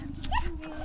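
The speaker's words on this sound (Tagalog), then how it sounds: "Ayan na, ang mga madadaming aso." Dogs in Padre Garcia, Batangas, giving a brief whimper and yip in one short burst close by, with some background noise.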